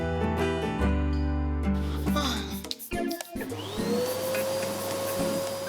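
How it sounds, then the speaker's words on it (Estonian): A vacuum cleaner motor starts up mid-scene after a stretch of music, its whine rising in pitch and settling into a steady loud drone. "Kas see on hai tolmuimejaga?"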